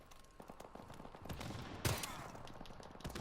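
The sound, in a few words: M1014 shotgun gunfire in a video game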